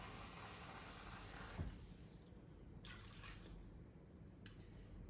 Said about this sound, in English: I just put in as much water as I need to get this cooking